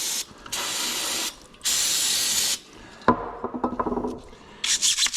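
Water spray rinses a pleated filter in hissing bursts: two long sprays, then a stretch of dripping and clattering, then another spray at the end.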